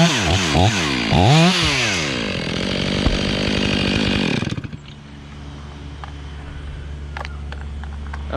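A chainsaw cuts through a big oak during tree rigging: loud, close engine roar with rising revs for about four seconds, then it abruptly drops to a low idle with faint background sounds.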